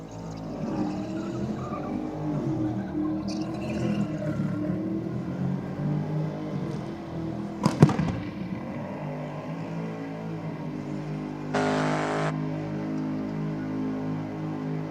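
A drag racing car does a burnout at Sydney Dragway, a sustained distant engine roar and tyre noise with wavering pitch, a sharp crack midway and a brief hissing burst later.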